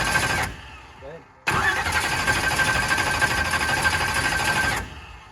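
Engine cranking without catching on a 35 °F day, a loud, steady, rapid churning that cuts out, pauses briefly, then resumes for several seconds before stopping, with a voice heard faintly during the pause.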